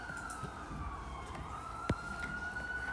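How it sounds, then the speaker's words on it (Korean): Sirens wail faintly from outside a classroom, one steady rising tone drifting under quiet room noise, with a brief thump partway through. "오늘 왜 이렇게 사이렌이 많이 울릴까?"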